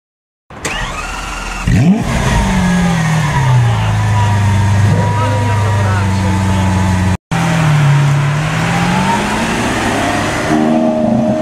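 A sports car engine turns over and revs hard close by, its pitch climbing and falling in long sweeps. After a brief cut it revs again with a deep, loud, sustained roar.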